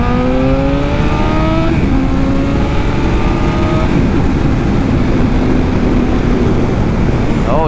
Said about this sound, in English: All right, second gear pull from 40 miles an hour